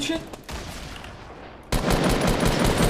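Gunfire in the battle royale game Fortnite during a competitive match: a steady wash of shots and crackling bursts, quieter at first, then a loud, dense barrage of rapid firing near the end.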